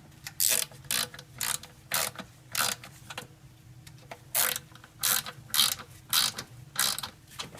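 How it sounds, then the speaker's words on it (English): Ratchet tightening valve cover bolts on a Toyota 2GR-FE V6 engine, crisp rapid clicking bursts repeated about a dozen times in a steady rhythm, close and clear with a quiet background. "now we'll grab the ratchets"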